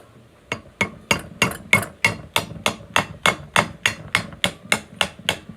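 Silicone hammer blows on a cardan drive shaft during repair, about fourteen sharp strikes in a steady, fairly quick rhythm, each a crisp knock with a short ring, close and loud with no talking.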